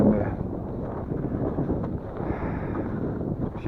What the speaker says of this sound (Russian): Вон какая ветрище, блин.